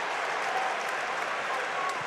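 Crowd at a Cincinnati Bearcats versus Dayton Flyers men's college basketball game in the arena, a dense sustained roar of cheering and applause filling the whole stretch, with a commentator's voice over it.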